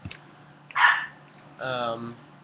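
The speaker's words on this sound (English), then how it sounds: "And there's my dog." A pet dog nearby lets out two short barks, the second lower and more drawn out, after a faint yip at the start.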